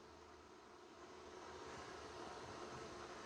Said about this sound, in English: It is vacuuming and mopping the kitchen right now.